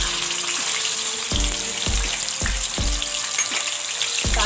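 Ginger garlic paste hits hot oil in a pan for chicken karahi, giving a loud, steady frying sizzle with a few sharp spits and crackles throughout.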